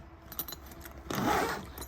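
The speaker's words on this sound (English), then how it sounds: "You take your other zipper all the way up, push it in a little out of the way" A tent door zipper is pulled in one short, scratchy run, close and clear after some light rustling and clicks.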